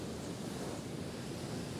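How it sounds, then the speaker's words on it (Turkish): Sea waves wash steadily onto a beach shore during a weekend seaside outing, a continuous broadband surf roar with some wind, fairly soft and unbroken, with no voices. "Yani resmen böyle denizin sesi huzur veriyor."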